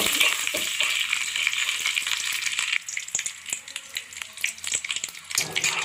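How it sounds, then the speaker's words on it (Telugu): Loud, crackling sizzle of leaves dropped into hot oil, spitting fiercely at first and then settling into lighter popping. "కొంచెం కరివేపాకు వేసుకోవాలి."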